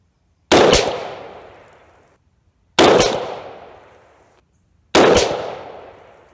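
Three loud, close rifle shots from an 18-inch chrome-lined AR-15 firing 5.56 handloads with 60 grain V-MAX bullets, each a sharp crack with a long decaying tail, spaced about two seconds apart with no talk.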